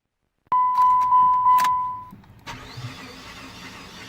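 A car with a broken timing belt is keyed on, giving a steady chime, then the engine cranks over fast and evenly without catching, loud and close inside the cabin.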